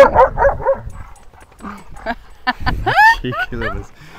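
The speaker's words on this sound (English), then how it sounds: "It's Lily telling off Miss Violet" A German Shepherd barks, yips and grumbles at another dog on a farm, a close run of short barks and whining yelps with a person's voice mixed in at the start.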